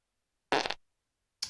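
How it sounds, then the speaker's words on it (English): A cartoonish fart sound effect plays from a livestream alert during a game stream. There is one loud, buzzy burst lasting about a quarter second, then silence, then a second burst starting at the very end. "Thank you for the fart, Jag."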